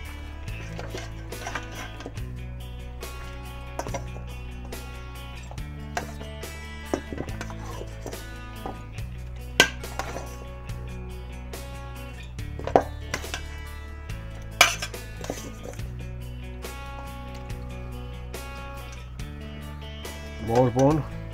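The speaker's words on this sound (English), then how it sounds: "So this thing I can chop up, the meat pieces and bone I can throw in the soup" Cooked beef meat and bone being chopped for minestrone soup, scattered knife thuds on a board under steady background music while someone talks throughout.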